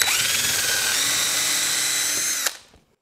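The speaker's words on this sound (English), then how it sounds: "let me drill some pilot holes here" A power drill bores pilot holes into wood for a shooting board, a loud steady high whine for over two seconds that stops abruptly and spins down.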